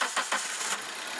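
A car engine is started up close: a couple of short cranking bursts, then it catches and settles into a steady, even idle.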